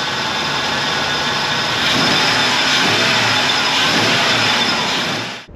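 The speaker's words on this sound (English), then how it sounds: "Idling nice." A 2002–2010 Ford Explorer V8 idles after new valve cover and intake gaskets, with cleaner burning off. A loud, steady mechanical hum and whine hold evenly up close before cutting off abruptly at the end.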